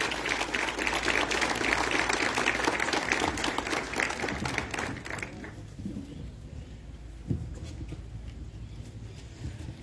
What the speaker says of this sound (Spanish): El aplauso para él.